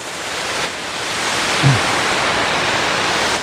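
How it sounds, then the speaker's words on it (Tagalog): River water pours over a road in Laguna like a waterfall, spilling from the Bumbungan River into the stream below, a loud, steady broadband rush with no speech. "So nagmimistulang waterfalls yung tubig na bumabagsak dito, dire-diretso dyan sa ilog."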